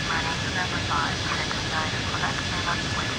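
Boeing 757-200 jet engines in a flight simulator, heard from a chase view behind the airliner as a loud, steady roar with a faint whine, while someone talks over it.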